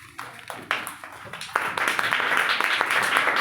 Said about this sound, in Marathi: चला, प्रत्येकासाठी छान टाळ्या द्या